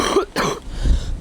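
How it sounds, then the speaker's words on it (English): A single close, harsh cough bursts out, then a shorter throaty follow-up and a low rumbling breath; nobody speaks. "There's the cough"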